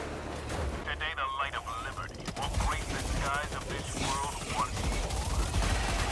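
The Sickle energy rifle fires against Terminid bugs in Helldivers 2: steady rapid shots with mechanical clatter run under someone talking, and the firing grows denser toward the end.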